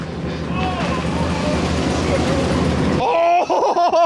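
A turbo GMC Yukon roars through a burnout, its engine droning loud and rough until a sudden shift to a revving, wavering pitch, with excited voices talking over it.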